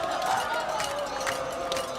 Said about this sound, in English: Listen to this crowd. Creekside is rocking